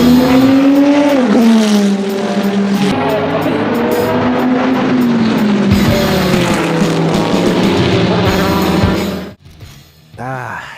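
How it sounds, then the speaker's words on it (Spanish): Dodge Viper GTS-R race car engine roaring loud and close at sustained high revs, pitch rising and dipping through gear changes for about nine seconds before cutting off abruptly, followed by a brief fainter rev. "el Dodge Viper GTS-R es uno de los mejores autos de carreras en la historia humana"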